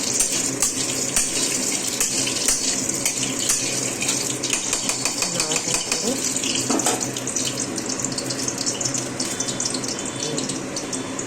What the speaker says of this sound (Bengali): কেটে রাখা পেঁয়াজগুলো তেলের মধ্যে দিয়ে দেবো।